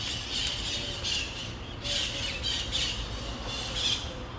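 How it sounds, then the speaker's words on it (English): Loud squawking and squealing birds calling in repeated bursts over a steady outdoor hiss, many voices overlapping. "there come my birds, there they come."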